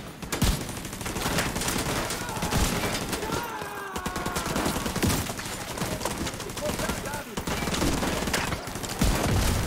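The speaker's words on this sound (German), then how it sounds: "Alter, wer wirft denn hier mit Granaten?" Nearly continuous gunfire and explosive bursts in the PC shooter Tom Clancy's The Division 2, rattling densely and loudly for the whole stretch with only a brief lull near the middle.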